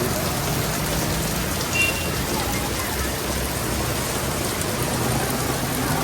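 Steady, dense rainfall over Ludhiana city hisses evenly throughout, a constant wash of drops with no breaks.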